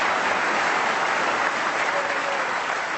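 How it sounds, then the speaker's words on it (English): Sustained, dense audience applause at a world championship snooker semi-final, a steady broad wash of clapping from a large crowd lasting the whole stretch without a break. "he gets a terrific round of applause"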